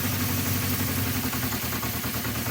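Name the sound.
Honda CB350 motorcycle engine idling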